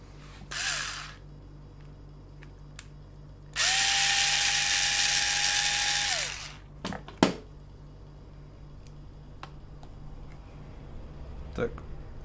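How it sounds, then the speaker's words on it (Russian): An electric screwdriver whirs in two bursts, one short and one longer steady run, while a Kaida CTR 406A fishing reel is taken apart, followed by scattered clicks and clatter of small parts on a quiet bench. "Так, берем отвертку. Так, насадочку надо поменьше."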